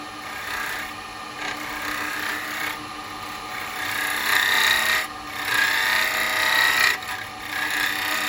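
Spindle gouge cutting wood on a lathe, flute open, producing a continuous rasping, hissing shear that swells and dips with each pass, fairly close and loud with no talk.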